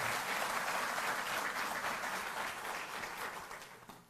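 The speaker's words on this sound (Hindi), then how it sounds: "एक बार जोरदार तालियों से आप करें।" Crowd at a government water-board ceremony claps steadily, a broad even patter of many hands that slowly tapers off over the last second.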